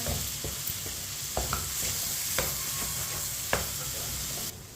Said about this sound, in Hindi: 6-7 मिनट के लिए मैंने चम्मच चलाते हुए पका लिया है